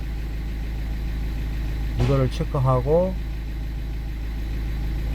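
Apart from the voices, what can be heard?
car engine idling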